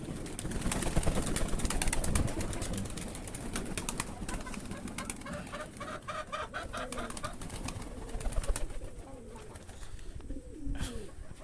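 Domestic pigeons coo softly and repeatedly in a home loft, low burbling calls scattered throughout, with other faint bird sounds and a little background noise.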